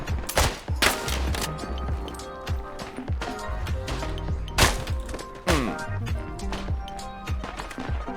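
Gunfire in a slower-paced shooter video game, rapid bursts of close, loud shots in quick clusters, with metallic clanks and echoing cracks between volleys, under occasional talk.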